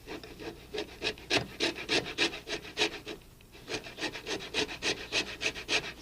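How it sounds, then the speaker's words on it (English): Lemon peel rasped against a grater in quick back-and-forth strokes, making a close, steady scraping rhythm with about a dozen distinct pulses and a brief pause midway. "Take a lemon and grate the peel of this thing"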